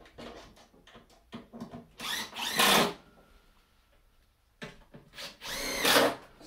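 A power drill drives screws into the sill plate of a squat rack window prop during assembly, in two whirring bursts separated by a pause, after quieter handling clicks and knocks.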